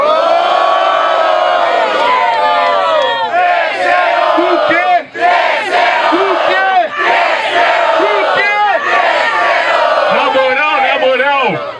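Audience at a Brazilian rap battle, Batalha do N9V in its 46th edition, cheering and shouting loudly and continuously, a dense crowd roar with whoops that dips only briefly midway.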